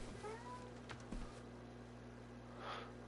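Cats meow a few times in the video game Black Mirror, faint thin calls over a low game-ambience hum, with a brief thump partway through.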